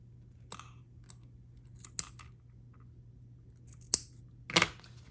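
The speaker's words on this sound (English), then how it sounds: "I'm gonna go ahead and snip the ends." Sharp snips of scissors trimming thread ends on a handmade leather passport wallet, a handful of brief close clicks spaced irregularly over a quiet room hum, the last few louder.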